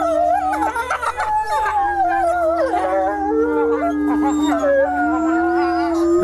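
Wolves howl together in a sustained pack chorus, while a young wolf, Luna, adds excited whines and wavering, yipping, half-formed howls that rise and fall over the steady, loud background howling.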